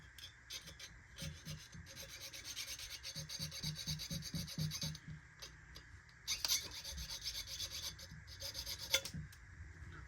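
Hand saw or file rasping back and forth through the small frame of a 1/64 scale square body flatbed model truck, a steady series of close, scratchy strokes with a few sharper clicks and knocks.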